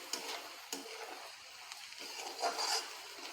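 Onion being stirred and fried in oil in a pan for a sprouted moth bean curry, a steady soft sizzle broken by a few scraping stirs of a spoon, close and fairly quiet with no talk.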